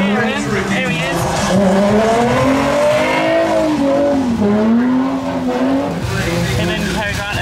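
A race car, a 350, at a Euro finals event on a wet track, engine droning steadily with rising and falling pitch and tires squealing, heard from nearby over continuous background voices.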